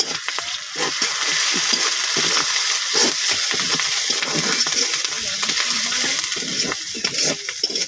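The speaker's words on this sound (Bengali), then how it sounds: "এই যে পেঁয়াজটা হালকা মানে ব্রাউন কালার করছি" Onion frying until light brown gives a loud, continuous crackle and sizzle with dense stirring clatter throughout, close and unbroken.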